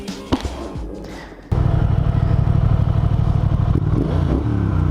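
A Triumph Thruxton 1200 twin-cylinder motorcycle starts after a few clunks and taps, then settles into a loud, close, throbbing idle with an even, pulsing rumble that continues steadily to the end.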